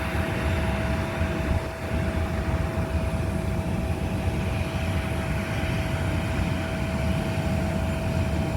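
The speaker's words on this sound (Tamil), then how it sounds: "இது ப்ரைவேட் ஜெட்டு. ஸோ இது கத்தார் ஏர்வேஸு." Steady, loud aircraft engine roar from a large Qatar Airways private jet parked at an airport, a continuous droning hum with a constant tone holding throughout, no voices.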